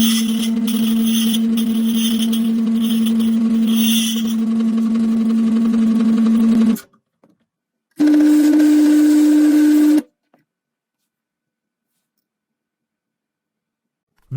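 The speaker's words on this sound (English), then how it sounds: "Here showing how some key copy machine works." A key copying machine cutting a key gives a loud, steady high-pitched whine that runs for several seconds, stops, then returns in a shorter burst before silence.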